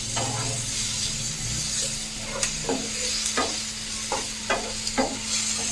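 A spoon stirs vegetables with a ginger, chili and garlic paste in a pan over a low flame while making moong dal appam. Several distinct scraping strokes come at irregular intervals over a soft, constant sizzle, with no talking.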